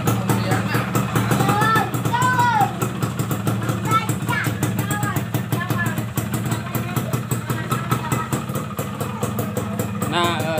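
A rebuilt Yamaha F1ZR two-stroke motorcycle engine runs steadily at idle close by, a continuous buzzing drone with a slight clutch rattle at the primary gear, while someone talks over it throughout.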